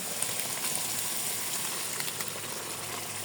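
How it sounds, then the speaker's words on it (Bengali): Chana lentils dropped into hot spiced oil in a pan sizzle with a steady, close, even hiss and faint crackle, with no talking. "এই দেখেন এখন এই যে আমি ডালটা দিয়ে দিব।"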